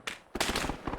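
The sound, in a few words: incoming gunfire during a military reenactment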